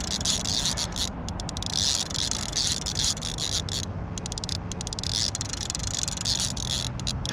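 A fishing reel pulls in line on a hooked fish with a continuous rapid, buzzing ratchet that pulses in uneven bursts, loud and close, with no talk.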